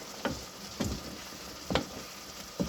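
Mushrooms (kabuti) sizzling in a pan, with a soft continuous fry and four evenly spaced stirring scrapes, quiet and close.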